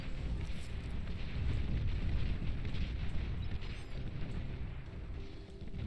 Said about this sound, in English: And now those Mauser are starting to fire away.